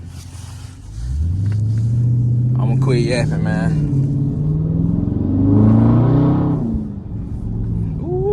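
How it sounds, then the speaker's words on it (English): A Dodge 392 Scat Pack in sport mode rumbles deep and close as it pulls away, the engine note climbing under a brief spoken remark, swelling louder mid-run, then easing back to a throaty cruise. "I'm gonna give y'all some of these exhaust clips. Let y'all hear the whip."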